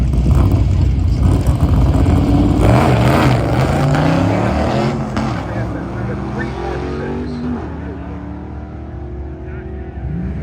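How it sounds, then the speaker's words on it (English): A 1966 Chevrolet Nova drag car at Cordova Dragway roars loudly through a long pass, its engine note climbing and then easing as it moves away, with crowd and commentary noise mixed underneath. "That's Jerry Barnes in the hopscotching 66 Nova."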